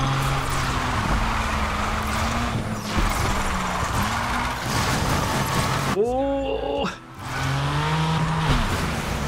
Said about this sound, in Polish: Strasznie fajne są te dźwięki opon, które próbują łapać trakcję.